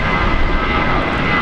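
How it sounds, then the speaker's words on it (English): A Jetstar Airbus A321 jet airliner gives a loud, continuous engine roar at close range, steady and unbroken with no voices over it. "So Jetstar A321 down here."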